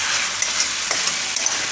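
A mixed dal vadi curry sizzles and fries steadily in oil, with a loud, continuous hiss close by and a few small pops and stirring scrapes.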